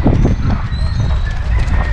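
A young colt moves along a street on its first outing, hooves clip-clopping in an irregular, fairly loud rhythm over steady outdoor background noise, with faint voices and birds behind.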